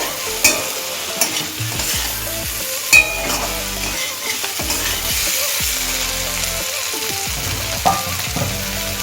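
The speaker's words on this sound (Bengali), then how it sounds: "একবার মিশিয়ে নেব।" A spoon stirs mourola fish curry (chorchori) with fresh chopped coriander in a sizzling pan, with soft scraping strokes, occasional sharp clinks against the metal, and a steady frying hiss underneath.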